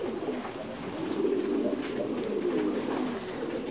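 Thai Titan meat pigeons cooing at a breeding farm, several low rolling coos overlapping in a steady murmur, close by, with no talk over them.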